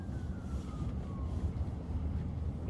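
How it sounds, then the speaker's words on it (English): During a police patrol, a siren wails faintly in the distance with a slowly falling tone, over a steady low rumble of traffic. "I hear a siren now."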